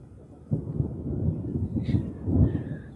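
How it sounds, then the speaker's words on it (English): Thunder from a thunderstorm rolls in as a low, rumbling swell that starts suddenly and rises again toward the end, with a faint higher sound partway through. "Thunder and lightning delay."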